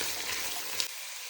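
Onions and carrots sizzle in a hot pan while being stirred, a close, steady frying hiss that cuts off abruptly near the end.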